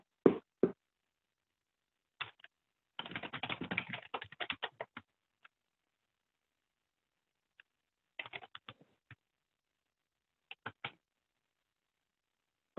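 Computer keyboard and mouse clicks during a remote work-from-home meeting, coming in scattered bursts of quick taps with a dense flurry in the middle, close and fairly quiet, with no talking over them.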